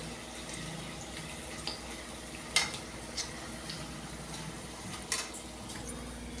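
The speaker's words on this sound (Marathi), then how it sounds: "हे बघा पलटी करून एक वेळेस तळू देते त्यांना मी" Maida papdi frying in hot oil in a pan, a quiet steady sizzle with a few sharp clinks and scrapes as the pieces are flipped.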